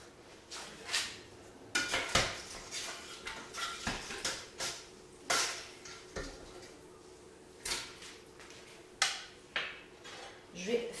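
Pieces of simmered guinea fowl are lifted from a cast-iron cocotte, with clinks and knocks of a utensil against the pot and dishes, scattered and close, in a quiet kitchen.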